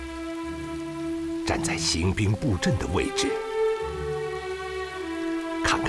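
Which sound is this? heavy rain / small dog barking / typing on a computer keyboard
heavy rain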